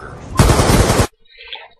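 A loud burst of rapid automatic gunfire from a first-person shooter video game rattles for about half a second and cuts off abruptly, followed by faint softer game sounds.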